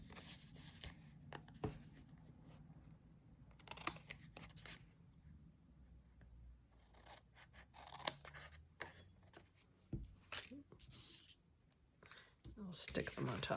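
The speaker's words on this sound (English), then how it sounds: "scissors, flip over the card, and then just trim." Scissors snip and trim a sticky piece of card in a craft session, with scattered close crisp cuts, paper rustles and handling clicks spread throughout at low volume.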